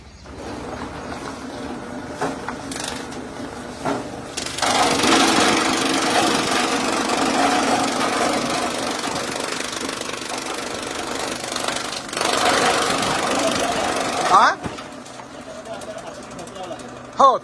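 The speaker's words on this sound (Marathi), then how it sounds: "Machine is working good." A fodder chopping machine runs and cuts stalks into two-inch pieces, giving a loud, continuous mechanical clatter and grinding that swells while stalks are being fed, with people talking nearby.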